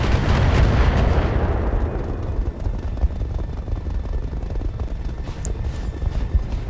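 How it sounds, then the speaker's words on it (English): Artillery fire from a supporting unit in a BattleTech-style mech video game, with heavy booming blasts that open loud and close, then fade into a rumbling, scattered bombardment. "The supporting unit's fire is now starting to take its toll as well."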